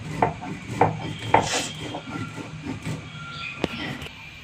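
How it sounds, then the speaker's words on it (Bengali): Boiled green banana peel is ground with mustard seeds and salt on a grinding stone, giving a few close, rhythmic rough scraping strokes followed by softer, uneven rubbing. "একটু সর্ষে দেব, লবণ দিয়ে দেব, দিয়ে একটু বেটে নেব"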